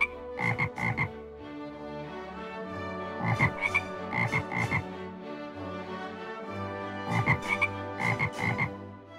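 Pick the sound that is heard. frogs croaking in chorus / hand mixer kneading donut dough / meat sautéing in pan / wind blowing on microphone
frogs croaking in chorus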